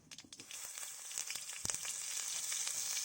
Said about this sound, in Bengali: সর্ষের তেল সামান্য পরিমাণে দিয়ে দিচ্ছে দু চামচ মতন গোটা সর্ষে